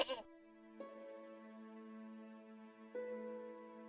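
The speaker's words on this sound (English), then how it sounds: "There was a goat." A goat in the adventure game Broken Sword lets out a few wavering, nasal bleats, clear and fairly close, each ringing on with a sustained tone, separated by brief pauses.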